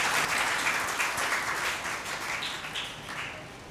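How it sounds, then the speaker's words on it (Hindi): A church congregation applauds to welcome a family, a dense burst of clapping that starts strong and gradually thins and fades toward the end. "अज भी असी जोरदार तालियां नाल उन्होंने वैलकम कहने।"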